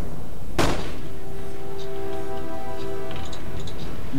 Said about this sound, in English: Mounted muskets which are firing at will.